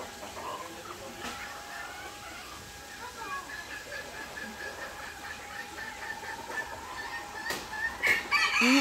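Chickens cluck and a rooster crows at moderate distance in a zoo, with people chatting faintly nearby and some rustling in the background.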